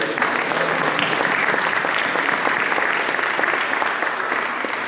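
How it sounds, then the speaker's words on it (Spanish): A church audience at a Spanish-language sermon on a father's responsibility breaks into dense, steady applause that stays loud and close for about five seconds, with no voice over it. "A ver, denle un aplauso a Reyes Reyes."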